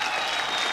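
A TV game show studio audience applauds, a dense, steady burst of close clapping filling the short moment with no other sound.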